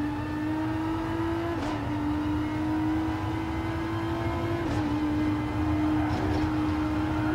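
Renault RS01 '16 Group X race car in Gran Turismo Sport, its engine holding a steady high whine that dips briefly on shifts and lifts, accompanied by constant loud drivetrain drone with no talk.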